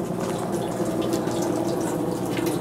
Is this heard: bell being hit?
no